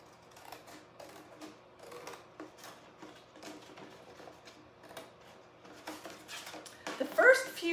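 Scissors cut pieces of thick watercolor paper in a rapid series of crisp snips and rustles close by, growing louder toward the end.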